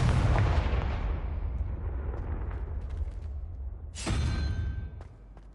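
A Confringo fire curse from Hogwarts Legacy detonates in a loud, booming blast with a rumbling tail, then a second sharp burst cracks out near the end.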